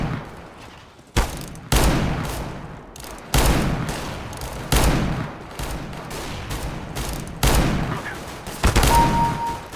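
Heavy R8 Revolver shots in a CS:GO deathmatch, sharp booming reports fired singly at uneven intervals of about a second, loud and close, with distant gunfire between them.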